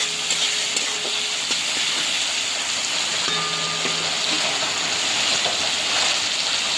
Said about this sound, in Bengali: নুনটা দিয়ে ভালো করে টমেটোটাকে নাড়াচাড়া করবো